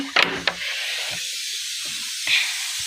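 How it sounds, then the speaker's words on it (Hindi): Short bursts of steam hissing from a pressure cooker whistle, a couple of sharp spurts early on and another later, with quiet background in between. "हमार कुकर ऑलरेडी सीटी चालू ही रहते हैं, बंद ही नहीं होते।"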